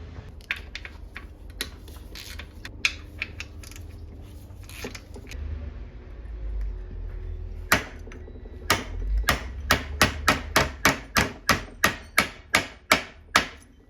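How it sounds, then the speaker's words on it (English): Metal hammer strikes drive a roll pin out of a Tremec TR6060 manual transmission case, starting as scattered taps and building into a steady run of about a dozen sharp, evenly spaced, loud blows close by. "this should come right up and drive out that roll pin"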